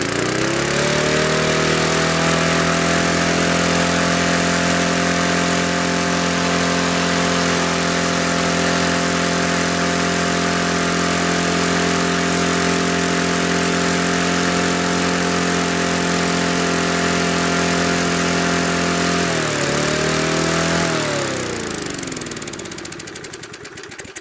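A Rally 20-inch lawn mower engine runs at a steady, loud, close drone, dips and rises again near the end, then begins to fade out.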